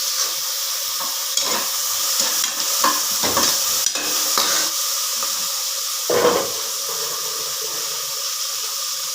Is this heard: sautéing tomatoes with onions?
yes